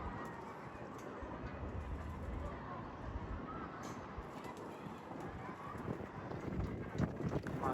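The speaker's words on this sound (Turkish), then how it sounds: "Rüzgar da çok zaten rüzgarın sesini alıyorsunuzdur az çok" Strong wind blowing into a microphone outdoors in Mardin, a steady low rumbling roar with gusts throughout and a faint voice beneath.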